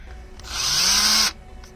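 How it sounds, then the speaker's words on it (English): A power drill fitted with a 1/16 inch bit bores a single small pilot hole for a doorbell mount, a close, steady whine rising in pitch over about a second before cutting off abruptly. "This is a 1/16 inch drill bit. I'll just be making one pilot hole here."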